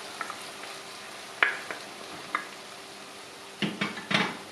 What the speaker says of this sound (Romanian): amestecăm puțin și închidem focul